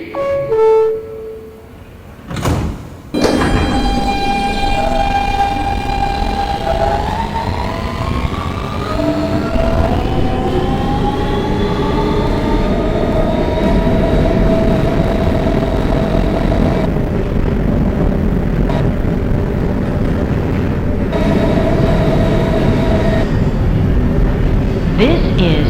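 An R160B Siemens subway car on a Bay Parkway-bound W train pulls away, its traction motors whining upward in pitch over a constant rolling rumble of wheels on track.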